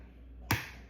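A single sharp crack of an egg broken straight into a bread machine pan, one brief, close tap against quiet background.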